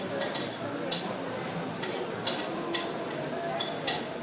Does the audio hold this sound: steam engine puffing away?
no